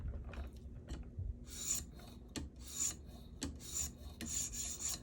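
An Ozark Trail ten-dollar Walmart knife is drawn across a sharpening stone in repeated rasping strokes, about four or five bursts spaced by short pauses, quiet and close with no talk.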